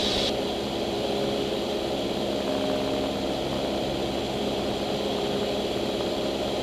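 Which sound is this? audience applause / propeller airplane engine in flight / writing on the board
propeller airplane engine in flight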